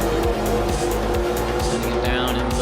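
Race cars at Daytona rev hard as they start off, a dense, loud engine roar with repeated rapid pitch sweeps from gear changes, with speech faintly beneath.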